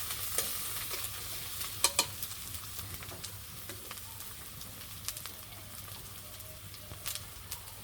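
Masala sizzles and fries in a pan on a rainy day in a village kitchen, with a steady hiss broken by scraping stirs and sharp clinks of the spoon against the pan.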